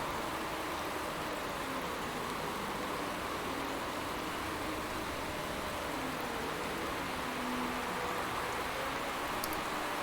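Steady wash of rain in the Motorsport Manager racing game, a dense hiss throughout with a faint engine hum beneath, no voices.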